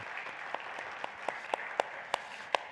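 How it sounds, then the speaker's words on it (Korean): A church congregation claps for the worship team, a soft patter of applause with several sharper, louder claps standing out toward the end. "우리 찬양팀, 우리 박수로 한번 좀 격려해 주시면 좋겠습니다"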